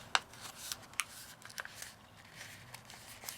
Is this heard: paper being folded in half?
yes